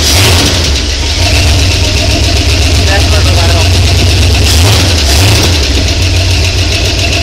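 A modified 1981 Ford 400 engine idles loud and close with a deep, steady rumble and a couple of slight swells in pitch, while a person talks over it.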